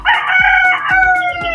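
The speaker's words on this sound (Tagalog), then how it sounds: "Ito yung native chicken natin" A native chicken rooster crows loudly and close by, in repeated harmonic calls across the short moment with no talk over it.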